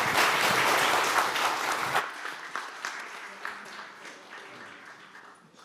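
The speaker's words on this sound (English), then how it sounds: "And with that, a round of applause." Audience at a conference day session breaks into loud sustained applause for about two seconds, then it thins into scattered fading claps with some murmuring.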